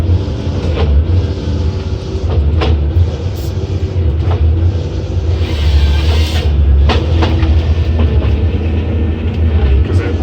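Waratah processor head on a forestry machine finding a log end and measuring it, a loud, close, heavy hydraulic rumble with sharp knocks and clanks at irregular intervals.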